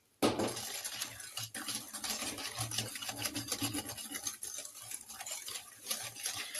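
Breton shortbread dough being mixed in a bowl after adding egg yolks and yeast, a steady scraping and rasping of the utensil against the bowl, close and continuous with slight rhythmic strokes.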